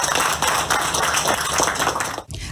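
Applause from family and friends greeting an injured military police officer as he enters a hospital emergency room in Porto Velho, Rondônia: close, dense clapping that runs steadily before breaking off abruptly near the end.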